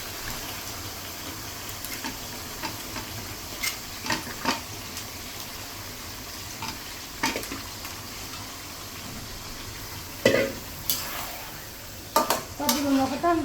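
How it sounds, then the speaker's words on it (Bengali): Katla fish pieces frying in a pan for a home-cooked fish bhuna, a steady close sizzle under scattered clinks and scrapes of a utensil stirring against the pan. "যে মাছটা দিয়ে দিচ্ছি এখন।"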